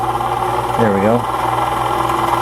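A sewing machine winds a bobbin under foot-pedal control, its motor humming steadily with a brief rise and dip in speed midway, close and moderately loud.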